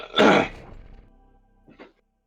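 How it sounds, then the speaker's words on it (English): A man clears his throat once with a loud, raspy burst, followed after a pause by a second, softer throat-clearing grunt, close up and alone. "Keep clearing your throat."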